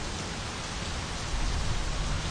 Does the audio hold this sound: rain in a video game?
yes